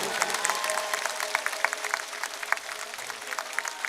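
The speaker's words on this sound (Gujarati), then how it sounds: "યાર તાળીઓ બહુ ઠંડી પડે છે જરા જોરથી તાળીઓ પડે" A large rally crowd in Banaskantha, Gujarat claps steadily, a dense wash of applause with louder rhythmic beats marking time in unison, fairly close and continuous throughout.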